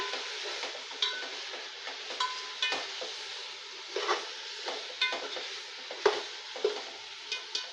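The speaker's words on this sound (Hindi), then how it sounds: "अदरक लहसुन का पेस्ट डाल देंगे और सबको अच्छी तरह मिलाएंगे चिकन का कलर चेंज होने तक।" Chicken frying in a pan with ginger garlic paste as it is stirred, steady sizzle with repeated scraping and clinking of the spoon against the pan, close with no talking.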